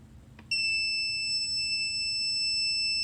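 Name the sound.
water detector buzzer alarm sounding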